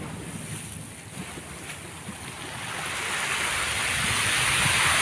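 Continuous roar of surf and wind at Maruni Beach, swelling louder toward the end as a large wave rushes in, with no voices.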